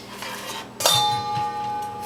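A metal lid is set onto a cooking pot with a single sharp clink and brief ringing clatter, followed by quiet kitchen background.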